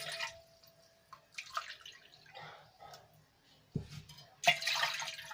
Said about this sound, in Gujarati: અહીંયા આપણે સાત વાટકી પાણી એડ કરી લઈશું